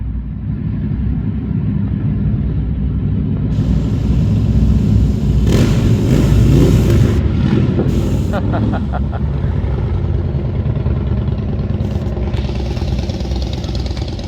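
A group of motorcycles rides past outside during a light pod install, a broad engine rumble and revving swelling loud near the middle and thinning out, with background noise throughout.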